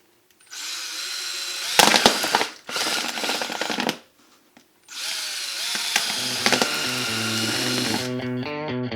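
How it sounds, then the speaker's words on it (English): A power drill bit bores through plastic micro green seeding trays that have tape on the bottom, heard as several loud, harsh bursts of grinding with short pauses between them. "They sort of want to crack when the drill bit goes through."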